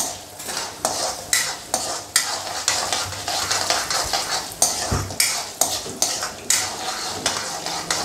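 Mustard and cumin seeds crackle in hot oil in a pan, with a rapid, irregular run of sharp pops and spatters alongside metallic spoon clinks and stirring, loud and close.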